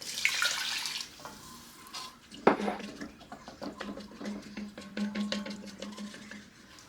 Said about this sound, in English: I'm going to be adding 2 cups of water